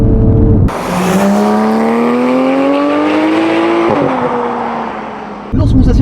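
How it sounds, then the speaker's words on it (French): Porsche 911 GT3 (991.1) with PDK gearbox revving hard after quick downshifts, a loud, rising high-pitched flat-six wail that climbs steadily, briefly drops at a shift, then pulls again before cutting off. "on utilise la boîte PDK, on fait tomber quelques rapports et là on commence à accélérer"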